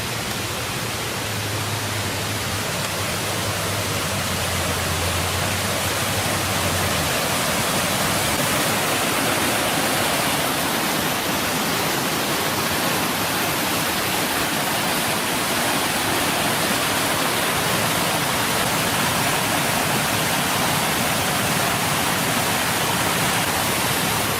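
A waterfall roars outdoors, a loud, steady broadband rush of falling water that continues unbroken and fills the whole stretch.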